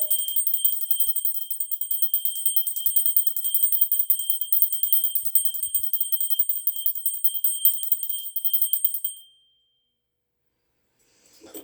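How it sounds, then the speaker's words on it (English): A small hand bell rings continuously with a bright, high tinkling tone for several seconds, then stops abruptly, leaving near silence. "I got a little bell here. I'm going to ring."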